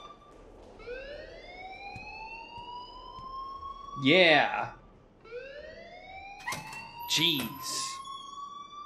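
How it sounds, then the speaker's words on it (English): A fire alarm in the Life is Strange video game wails in repeated rising sweeps, loud and steady, while a voice briefly cuts in over it. "please turn off that alarm since that's your job"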